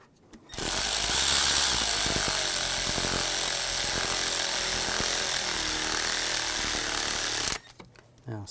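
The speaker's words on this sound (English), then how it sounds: "Now we're gonna just get all the bolts started." A power tool runs loud and steady for about seven seconds, starting the bolts on the valve cover of a 2004-2009 Audi A4 Quattro 2.0L four-cylinder, with an abrupt start and stop and no speech.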